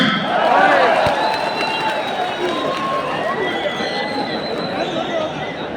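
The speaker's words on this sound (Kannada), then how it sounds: "ಹೊಡೆದಿ ಚಪ್ಪಾಳೆ." An audience at a state teachers' conference claps in sustained, dense applause, loud and close at first and then easing slightly, with crowd murmur underneath.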